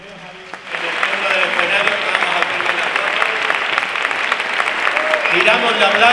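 Sustained audience applause fills a hall during the pregón of the 2024 Ronda Carnival, dense clapping that swells after a brief quieter start and holds steady, loud and close, with voices faintly mixed in.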